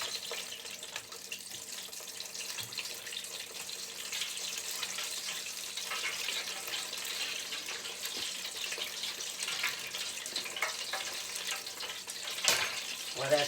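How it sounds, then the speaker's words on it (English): Kidney steak pies fry in a pan, a soft, steady crackling sizzle with scattered pops and hiss, fairly faint and continuous throughout, rising slightly near the end. "Let me go ahead and fry these two on up here."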